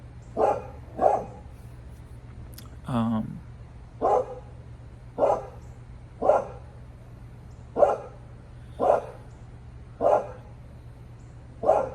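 A dog barks repeatedly outdoors on a street, about ten sharp single woofs at roughly one-second intervals, moderately distant, with one brief whimpering yelp early on and a steady low hum underneath.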